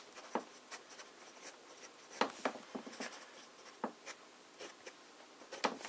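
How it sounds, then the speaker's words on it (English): A fountain pen filled with Conway Stewart St. Blazey ink writes on paper, making faint close scratches and soft ticks in irregular bursts of strokes, alone without talk. "Let us start with some fine writing."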